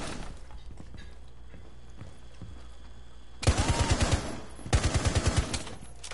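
Automatic gunfire in Rainbow Six arrives as two loud bursts of rapid shots, each about a second long, over a low hum of game ambience.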